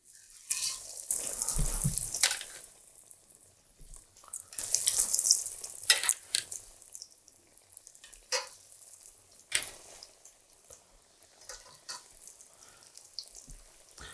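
Leftover mashed potato cakes lowered into hot oil in a pan, a bright steady sizzle rising in bursts as each cake goes in, with quieter crackling between, close and loud.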